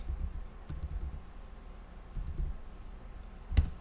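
A few computer keyboard keys are pressed close by, including a Shift+Enter combination, as sparse soft clicks with one sharper tap near the end.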